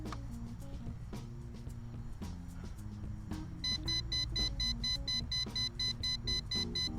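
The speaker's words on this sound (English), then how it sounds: "Okay, so we're beeping." A Holy Stone HS710 drone controller sounds regular warning beeps in a steady pattern over a low background hum after losing app connection at 350 feet, growing louder and more insistent partway through.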